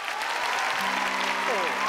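Studio audience applause for three contestants on a Thai singing competition show, steady clapping under a sustained musical tone that bends upward near the end.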